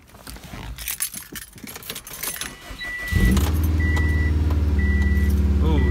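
Subaru WRX with a newly installed turbo inlet: keys jingle and rattle in the ignition for a few seconds, then the engine cranks and catches, settling into a loud, steady idle.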